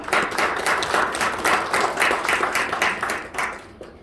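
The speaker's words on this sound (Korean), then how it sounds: "큰 박수로 한번 맞아주시기 바랍니다" An audience at a leadership talk applauds as the speaker is welcomed, a dense wash of clapping at steady strength that fades out near the end.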